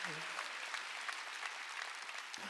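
Congregation clapping in church during a Sunday worship service, an even, crowded patter of hands throughout, with a brief voice at the very start.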